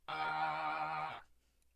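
A sustained synth tone with a vibrato effect, held for about a second with a steady wavering pitch, then cut off cleanly into quiet.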